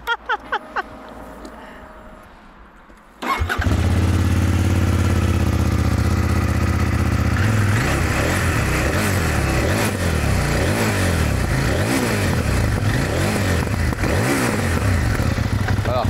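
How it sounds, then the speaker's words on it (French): A CFMoto motorcycle with a KTM LC8C engine bursts into loud, close revving after a few quiet seconds with a voice, then keeps revving up and down with sharp popping exhaust backfires through the blips. "On entend effectivement qu'il y a des retours de flammes au niveau de l'échappement"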